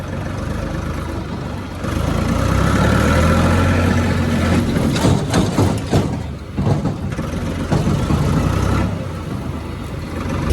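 A tractor engine runs during wheat harvesting in a dry field, a loud, steady rumbling drone with mechanical clatter and shifting load throughout.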